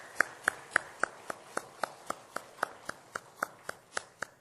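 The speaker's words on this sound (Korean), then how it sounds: "그럼 우리 박수 한번 하겠습니다." A church congregation claps together in a steady, even rhythm, about sixteen crisp claps in quick succession, heard from a slight distance in a quiet hall.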